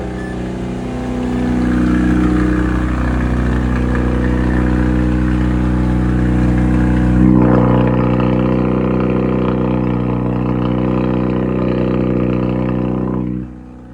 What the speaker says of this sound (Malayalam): അപ്പോൾ ഞാൻ ജസ്റ്റ് ഇതിൻ്റെ സൗണ്ട് ഒന്ന് ഏൽപ്പിച്ചാൽ എൻ്റെ എക്സോസ്റ്റിൻ്റെ സൗണ്ട്